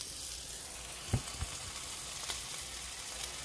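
Onions and burger patties frying in a pan for Oklahoma onion burgers, a steady, quiet sizzle with a few soft taps of a utensil.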